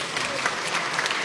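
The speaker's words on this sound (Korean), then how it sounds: "마저 듣고 박수 치세요" A brief burst of applause from an audience of local residents and schoolchildren in a parliamentary hall, a dense steady clapping close by.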